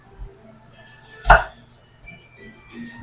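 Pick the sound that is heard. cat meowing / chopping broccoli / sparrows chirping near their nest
chopping broccoli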